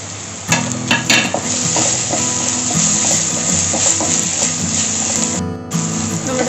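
Ginger garlic paste and green chillies fry in a pan for a Kerala beef stew, giving a loud, close, steady sizzle and hiss with repeated stirring scrapes, cutting off briefly near the end before resuming.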